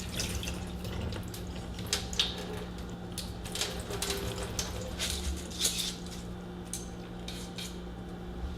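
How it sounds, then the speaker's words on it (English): Starchy soaking water poured out of a pot of rice, a steady trickle with scattered drips and splashes, close and fairly quiet, with no talking. "there's still a little bit of starch in this water, so we're going to pour that out."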